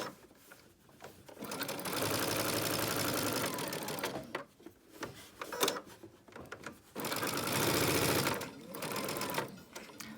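Sewing machine stitching a child's fabric face mask, running in long steady bursts with short pauses between seams, close and fairly loud.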